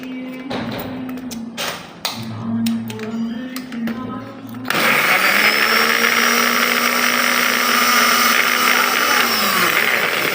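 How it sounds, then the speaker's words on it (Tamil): Biscuits are ground for a cake topping. First come taps and thumps as the blender is loaded, then the motor starts with a loud, steady whirring roar that holds to the end. "பிளெண்டரில் அரைக்க போகிறோம்"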